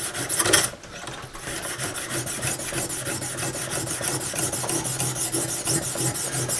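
A knife blade is drawn across an oiled stone on a Lansky guided sharpening system in quick, repeated rasping strokes that sound close and fairly quiet, after a brief louder scrape at the start.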